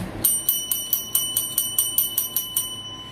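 Notification bell sound effect: about a dozen bright, evenly spaced metallic dings ringing quickly in a row for roughly two and a half seconds, clear and close with a short ringing tail, no voice.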